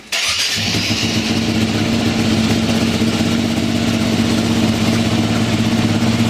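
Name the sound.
KTM EXC motorcycle engine started and idling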